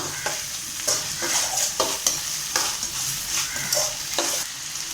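Chicken drumsticks roasting in a pan give a continuous sizzle, broken by repeated scraping stirs at an irregular rhythm, close and fairly loud, with no talk.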